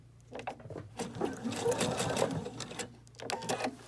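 A sewing machine stitching a hand towel, running in short bursts with rapid mechanical clatter close by, while someone talks over it.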